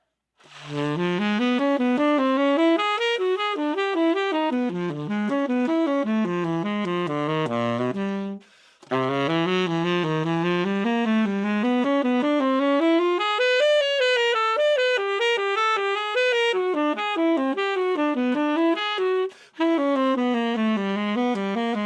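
A solo melodic instrument plays a steady, continuous stream of quick even eighth notes in a jazz line, with one brief pause midway.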